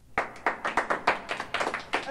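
Audience applause at a prize-giving in a Paddington Christmas story, heard as a rapid run of close claps in uneven bursts lasting a couple of seconds.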